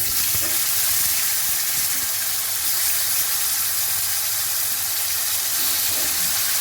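Tomatoes go into hot oil with cumin seeds and fry with a steady, dense sizzle throughout, loud and close, with faint clinks of a utensil.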